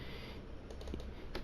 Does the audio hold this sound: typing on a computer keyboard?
yes